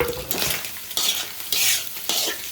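Carrot, capsicum and onion are stir-fried on high flame for chicken fried rice, with a few quick, loud scraping strokes of a ladle through a hissing sizzle, close up and without talk.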